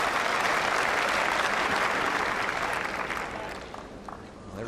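A large crowd on Number 1 Court at Wimbledon applauding a point in a grass-court tennis match, loud, dense clapping that holds steady and then gradually thins out.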